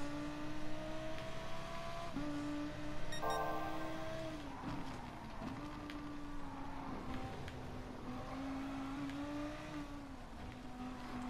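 A car accelerating in the racing game GT Sport, its steady engine tone climbing in pitch across several gear changes, loud and continuous with a brief ticking sound partway through.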